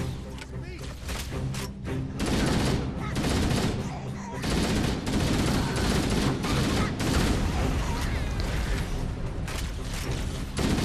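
Sustained gunfire from Halo CE Anniversary fills the scene, dense bursts of shots and battle noise running almost continuously at steady loudness, with voices mixed in.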